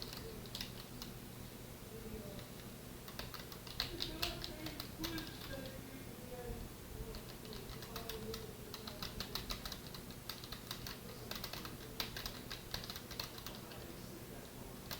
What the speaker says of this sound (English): I love how clicky my buttons are.